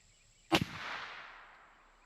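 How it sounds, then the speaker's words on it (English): A single sharp report from a rifle firing a Hornady LEVERevolution .357 Magnum 140 grain FTX round outdoors, followed by a fading echo tail. "Shoot these Hornady LEVERevolution 357 Magnum 140 grain FTX."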